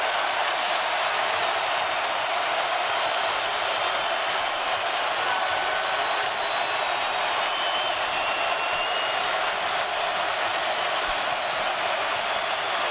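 A packed basketball arena crowd at a college game between Alabama and Tennessee roars continuously, a dense sustained wash of cheering and noise that stays loud and steady throughout.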